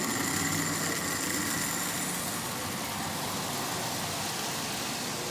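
Marx Canadian Pacific toy locomotive with a newly installed motor running on the rails, a steady buzzing motor whir with a light rattling texture, continuous and close, with no talk.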